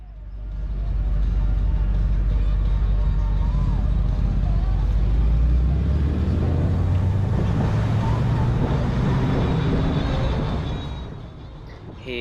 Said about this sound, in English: as we drive in and onto the beach itself